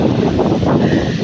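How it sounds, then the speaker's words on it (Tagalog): Strong coastal wind by a fishing boat buffets the microphone with a loud, rough roar, gusting unevenly for a brief moment. "malakas po ang hangin dito"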